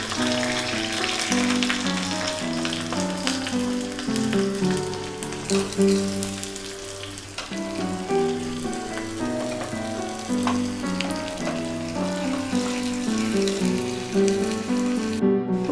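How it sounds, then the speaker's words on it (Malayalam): Onion and curry leaves sizzle in hot oil for a Kerala tomato curry tempering, a steady close crackling hiss over music. "ഇപ്പം നമുക്ക് ഉള്ളി വേപ്പിലയും ഇട്ട്"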